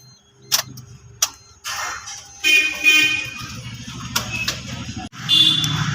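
A Suzuki Celerio's central-lock siren gives two short, sharp chirps, followed by louder bursts of electronic tone and mechanical rattling close by.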